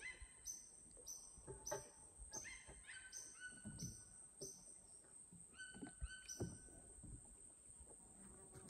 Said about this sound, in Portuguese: Aqui já dá pra ouvir muitos cantos deles.